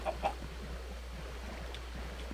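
Minecraft chickens let out a couple of quick, soft clucks at the start, then fade into a steady low hum of background ambience.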